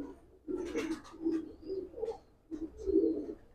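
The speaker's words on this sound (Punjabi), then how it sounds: "ਆ ਲਿਆਂਦੇ ਹੋਰ ਕਬੂਤਰ, ਇਹ ਵੀ ਮੋਰ ਵਾਲੇ ਆ ਬਈ" Peacock-type fancy pigeons coo nearby in a series of soft, throaty, rhythmic coos, a short pause splitting them into two runs, with faint chirps in the background.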